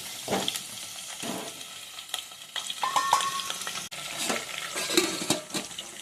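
Pumpkin pieces fry in hot oil in a pan while being stirred, with a steady close sizzle broken by repeated scraping and clinking strokes of a spoon against the pan.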